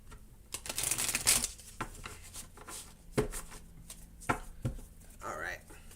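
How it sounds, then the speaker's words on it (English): Tarot cards are shuffled and riffled close by in several quick bursts, with papery slaps and rubbing between them. "Let me go ahead and give us a shuffle here."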